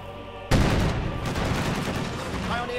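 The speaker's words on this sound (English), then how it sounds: "the heavy machine gun set up. They're firing from a nearby place." Heavy machine gun fire in the real-time strategy game Company of Heroes 2: a sudden loud burst of rapid automatic shots that rattles on steadily, with other battle noise and a voice faintly underneath.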